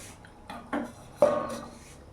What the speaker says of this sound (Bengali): ঢাকা দিয়ে দেবো